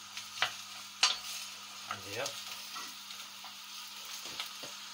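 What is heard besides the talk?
gammon and red cabbage sizzling in the pan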